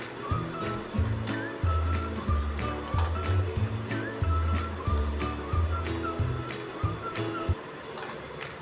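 Sweet jaggery dough for traditional dashmi is kneaded by hand, with a steady run of soft, rhythmic, squishy presses and slaps close up.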